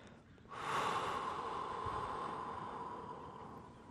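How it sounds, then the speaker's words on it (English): A long, steady breath out through the mouth during a gentle yoga stretching session, an airy rushing exhale that starts suddenly and fades slowly over about three seconds, close to the microphone with no talking. "Do a long exhalation through your mouth."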